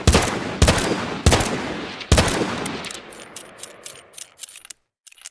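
Peacekeeper weapon mod in Fallout 4 firing four loud, evenly spaced shots with echoing tails, then quick mechanical clicks and clacks of handling that fade into silence.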